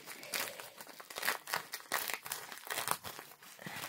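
A pink paper envelope being opened up close, with continuous soft crinkling and rustling of paper in small irregular bursts, quiet and with no talking.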